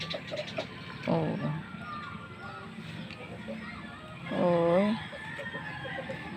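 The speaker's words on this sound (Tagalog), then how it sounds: "Nagasiyapan ang mga sisiw." Backyard chickens and chicks, with two clear clucking calls up close over a bed of faint chirps and rustling, plus a soft voice in the background.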